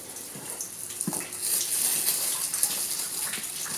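Water pours and splashes down steadily inside an abandoned hospital, a continuous hissing gush with a few small drips and knocks.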